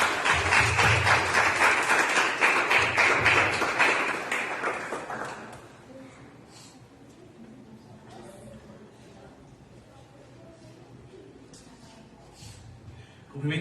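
Church congregation applauding at a youth group service, dense clapping that is loud at first, fades after about five seconds into quieter murmuring and voices of the room.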